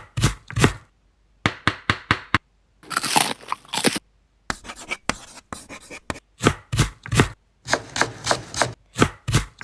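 Chopping on a cutting board, with bursts of quick knife strikes that come in rapid runs separated by short pauses, plus a few crunchier scraping passages, close and fairly loud with no talking.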